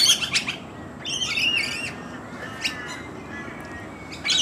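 A mixed flock of wild suburban birds in Australia around a tree, with bursts of loud chirps and squawking calls up close, a few shorter calls after them, and quieter gaps in between.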